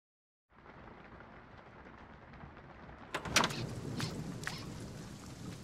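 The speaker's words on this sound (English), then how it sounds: "Rain." Steady rain falls with a constant hiss, building slightly, and a couple of sharp splashy crackles stand out midway; no voices.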